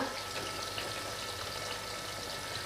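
Rohu fish curry with potato and cauliflower simmering in a pot over raised gas flame, a steady, soft bubbling hiss that holds evenly throughout, close and fairly quiet with no voices.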